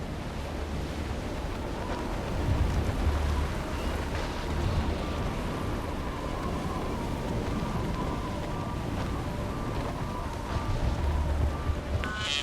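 Steady rain and wind rumble through a stormy Mass Effect 3 level, with a low, continuous wash of noise, faint muffled swells like distant thunder, and no talking.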